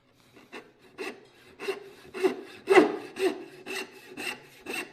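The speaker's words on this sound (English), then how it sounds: "Now that vibration you're hearing is just because I'm having to have that up so high in the vise in order to be able to get my saw in there" A hand saw cuts wood clamped high in a vise, making about nine rhythmic rasping strokes with an audible vibration. The strokes are close, steady and alone, with no talking.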